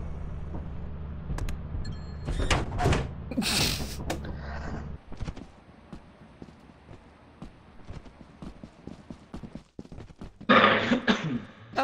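In the video game Lethal Company, a character coughs and clears his throat in a few rough bursts early on. Thumping footstep-like clatter and scattered noises follow, and there is no clear talk.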